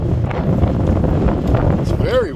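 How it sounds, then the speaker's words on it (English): Strong wind buffets the microphone in a steady, close roar throughout at a high lookout along the Rogue River, with a faint voice briefly near the end. "It's very windy up here."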